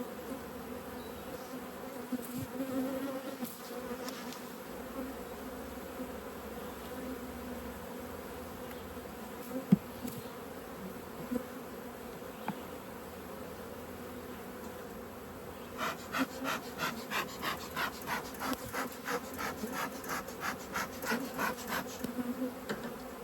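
Steady, droning buzz of many honey bees over a very large open hive, continuous and moderately close, with a rhythmic series of soft puffs or pulses joining in during the later part.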